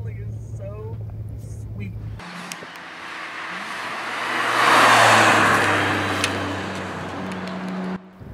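A Nissan Skyline GTR is driven on track, its engine note accelerating and swelling to a loud peak before easing off. Someone speaks over the engine during the drive.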